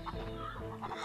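Clucking of a chicken in the Crash Bandicoot 3 video game, a short burst of repeated game-audio clucks over a busy layer of game sound, close and steady.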